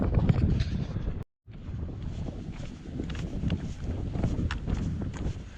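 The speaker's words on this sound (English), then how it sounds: "Getting a bit breezy now." Breezy wind blows across the microphone on the Cumbria Way hiking trail, a steady low rumble with gusty swells and a brief dropout near the start, and no voices are heard.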